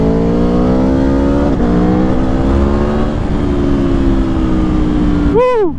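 An Aprilia Tuono V4 Factory 1100 motorcycle is ridden through city streets, its engine droning loud and steady with gradual pitch shifts as it holds speed, ending in a quick rising rev burst, heard close from the rider's position.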